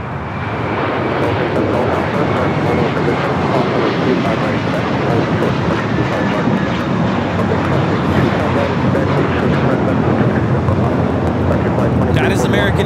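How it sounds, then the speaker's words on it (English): American Airlines flight 238 takes off at Los Angeles airport, a loud, steady jet engine roar that holds strongly throughout, close and continuous. "That is American Airlines 238 taking off to JFK on the 8321."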